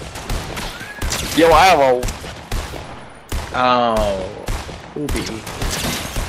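Rapid bursts of video game gunfire from a hunting rifle and a sniper rifle, sharp cracks repeating through the clip under excited player chatter.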